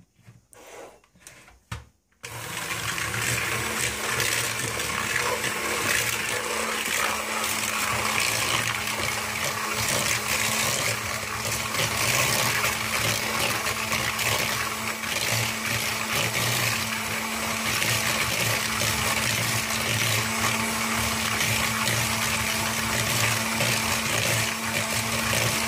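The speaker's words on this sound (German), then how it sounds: "das Ganze verrühre ich jetzt mit dem Rührgerät" An electric hand mixer stirs quark batter in a bowl, a loud, steady whirring drone that starts abruptly after a few quiet seconds and runs unbroken to the end.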